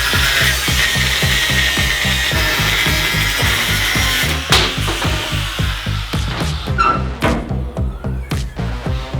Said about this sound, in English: I've got to cut the flange off the extractors, weld on a different style flange.